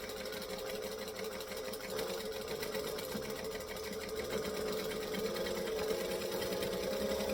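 A sewing machine runs steadily for several seconds, stitching then reversing to backstitch, with a continuous close mechanical whir and fine rapid needle rattle throughout and no talk.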